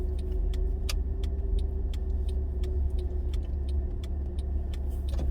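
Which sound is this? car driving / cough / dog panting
car driving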